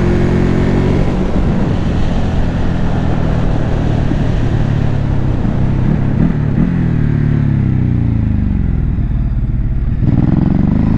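Ducati Hypermotard 950 motorcycle engine while riding, loud and close, a continuous throaty drone that rises and falls with throttle changes, with wind rush and no talking.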